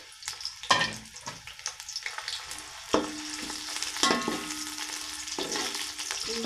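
Onions fry in ghee in a large pot for rice, giving a steady sizzle broken by clattering stirring strokes, close and alone with no talking.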